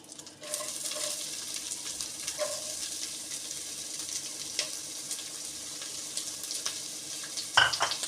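Onions with salt and curry leaves sautéing in a pan, a soft steady sizzle broken by a few light utensil clinks and a louder clatter near the end, no talking.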